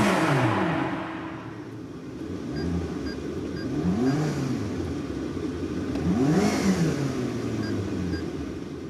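A tuned supercar engine with a performance exhaust revs in repeated swelling bursts, rising and falling pitch sweeps roughly every two seconds over a steady engine drone, fairly close and loud, with no talking.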